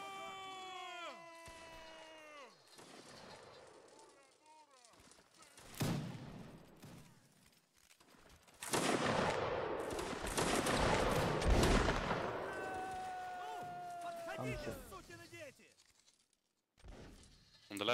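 Musket volleys ring out during a Napoleonic Wars line battle in a video game. Loud, crackling bursts of gunfire come in clusters, with a dense sustained fusillade in the middle, and people talk and call out over the shooting.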